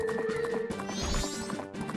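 Horse hooves clip-clopping in Majora's Mask, a brisk run of close hoofbeats over game music, with a short whinny-like cue.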